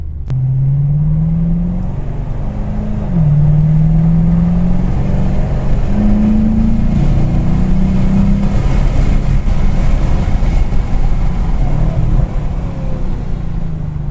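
A Chevrolet Camaro SS V8 cruising, with a deep steady engine rumble inside the cabin and a few gentle pitch rises and dips as the throttle changes, loud and continuous with no talking.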